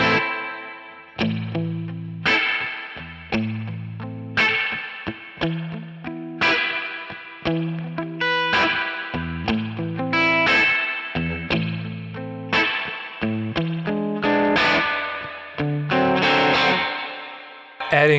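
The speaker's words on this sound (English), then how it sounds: "For the ballads, you can take the spring reverb, but not that much." An electric guitar runs through a Kemper Profiler with spring reverb and plays rockabilly-style phrases, mixing plucked notes and strummed chords that ring out loud and clear with a wet reverb tail and no talking.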